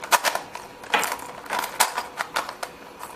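Hollowed-out Rubik's Cube being twisted and scrambled, a run of quick, close clicky clacks at an uneven rhythm, with about eight sharper snaps standing out over three seconds and no talking.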